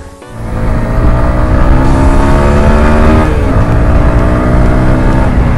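A 2022 TVS Apache 160 4V Special Edition motorcycle pulls away under hard throttle, its loud engine note quickly rising and holding a steady, strong drone close by, with no speech.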